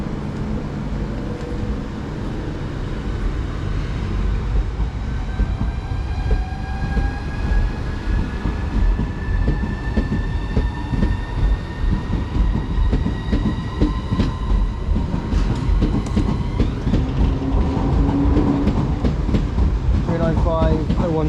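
A train pulls away from a platform at Walmer in Kent, with a steady rumble, rising motor whine and rhythmic rail clatter throughout. It stays close and loud, with faint voices under the running noise.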